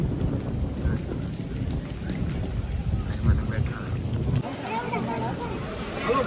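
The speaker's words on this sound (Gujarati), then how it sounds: "અત્યારમાં વરસાદ આવી ગયો છે" Heavy rain pours steadily with thunder rumbling low beneath it at a temple site. The downpour sounds dense and close throughout, and a voice can be heard faintly under the noise.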